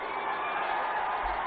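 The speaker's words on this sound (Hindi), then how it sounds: "जोरदार तालियों के साथ स्वागत कीजिए" A crowd at a Ghazipur political rally applauds to welcome a speaker onto the stage, a steady, dense wash of clapping and cheering that holds evenly throughout.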